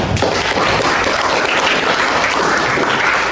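A class applauds at the close of a lesson, a dense, steady burst of many hands clapping at close range, continuous for a few seconds with no speech over it.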